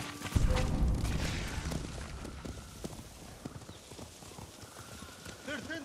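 Horses gallop off in Ghost of Tsushima, a loud rush of hoofbeats that fades over several seconds before a whinny rises near the end.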